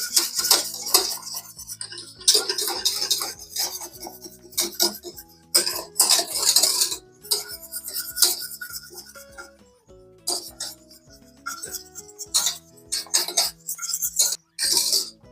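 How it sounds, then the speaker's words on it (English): A whisk works pudding in a pot on the stove, giving irregular bursts of metallic clinking and scraping against the pan, separated by brief quiet gaps. "you just want to continue to whisk this until it becomes like a thick pudding"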